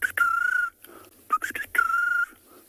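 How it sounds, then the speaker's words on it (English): A South African bush bird gives a ringing call like an old dial telephone during a morning safari, with two sustained trilling notes separated by short chirps, clear and fairly close. "Number of bird calls in the background. One of them sounds like a telephone."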